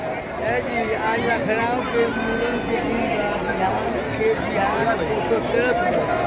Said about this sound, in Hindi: अच्छा बैसाखी मेला अच्छा मेला बहुत भाई अच्छा भीड़ बा